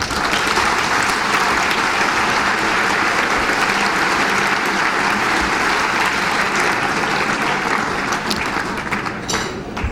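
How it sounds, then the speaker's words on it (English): Loud, sustained applause from a large crowd at a fashion-industry awards dinner, thick continuous clapping that carries on steadily for the whole ten seconds. "Give them a round of applause."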